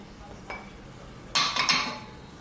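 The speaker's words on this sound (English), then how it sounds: "So just continuously stirring, just mixing it all up." A utensil scrapes and clinks against a pan while onions and green peppers sauté, a soft tap followed by a brief cluster of louder scraping strokes.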